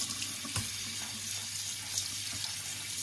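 Lentils being rinsed under a running kitchen tap, a steady close hiss of water spattering into a sink with small splashing bursts, no talk.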